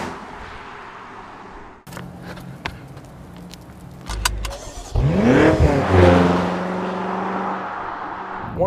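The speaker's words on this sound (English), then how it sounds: "they all have a bit of a throttle blip, but this, when it downshifts, it just stands out a bit more" A BMW M5 V8 blips its throttle on a downshift, a sharp revving burst through the quad exhaust rising after a few faint clicks and thumps, then settling into a loud, sustained engine roar.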